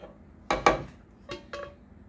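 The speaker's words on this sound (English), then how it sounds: "Scoop that off in there." A utensil scoops chicken pot pie soup from a pot, giving a few short clinks and scrapes against the metal. The knocks come in two close pairs and sound near and fairly soft, with no talking.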